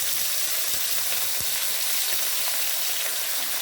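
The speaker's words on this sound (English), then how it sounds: "Then I'll keep observing and stirring it side to side till it's well cooked, properly cooked." Chicken pieces for shawarma frying in a pan, giving a steady, dense sizzle that holds even throughout, with faint soft thuds of turning underneath.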